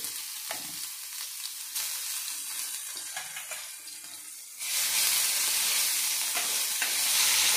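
Cumin seeds and a crushed chili paste (thecha) sizzle loudly in hot oil, with steady frying hiss and occasional stirring clatter, the sizzle jumping louder midway as more paste hits the pan; a home Marathi kitchen cooking vangyache bharit.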